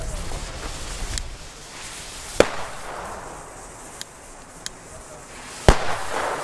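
Small Trueno firecrackers of about 0.35 grams bang outdoors: a sharp crack, then a second louder pop a few seconds later, with faint tapping noises in between.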